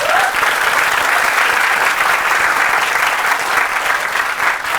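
Steady, dense audience applause from a large live crowd at a talk, loud and sustained throughout with no pauses.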